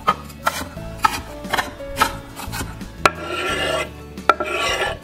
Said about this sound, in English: You wanna finely chop your onion.